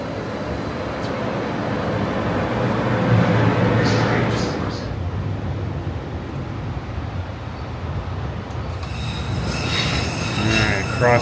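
A Calgary CTrain light-rail train rumbles along the rails near Sunnyside Station, with high metallic wheel squeals rising near the end, loud and close, with a voice talking over it.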